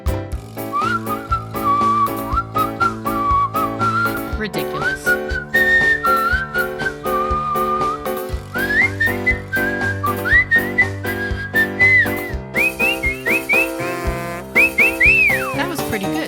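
A puppet character performs a whistling solo, a long, loud melodic line of rising and falling whistled notes carried over busy musical accompaniment from start to finish.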